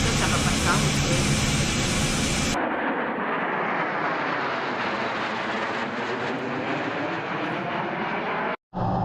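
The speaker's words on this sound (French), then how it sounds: "J'aime ça, regarder ça, les avions." An airplane passes overhead, a broad engine roar that sustains across the clip after an abrupt shift at the start, with a brief dropout near the end.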